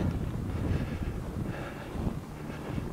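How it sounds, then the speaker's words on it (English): Strong wind on a snowy sledding hill beside a big plowed pile, roaring and buffeting the microphone in a steady low rush that never lets up. "You can tell the wind's pretty bad"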